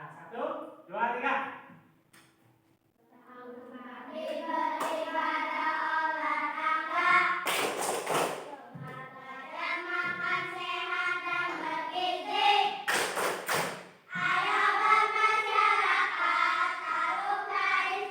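A fifth-grade class chants the Tepuk Indonesia clapping pattern together in a classroom. Voices run in unison, broken by two sharp bursts of group clapping midway and near the end.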